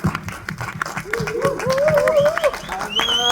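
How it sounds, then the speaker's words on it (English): Audience applause at a film trailer launch press event in Mumbai, a steady patter of claps under loud crowd noise with a cheering voice and some whistles rising over it. "we gotta give him a big round of applause."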